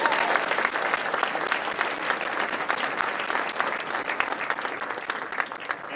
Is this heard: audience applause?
yes